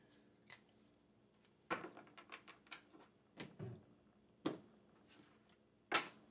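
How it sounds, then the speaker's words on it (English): Tarot cards shuffled by hand during a reading, heard as a quiet run of soft papery riffles and sharper snapping bursts at irregular intervals, close to the microphone with no talking. "We're not done shuffling"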